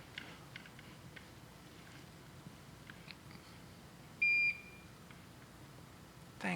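Short high electronic beep on a workbench with a solder pot, faint clicks and handling noises before it against a quiet room.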